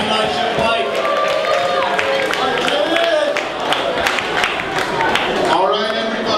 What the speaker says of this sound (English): let's have a big round of applause for Eli and Mike